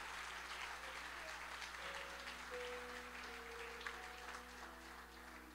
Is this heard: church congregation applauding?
yes